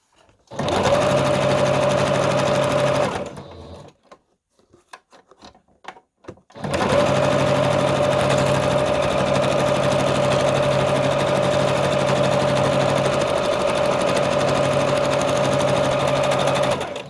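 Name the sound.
sewing machine sewing a straight stitch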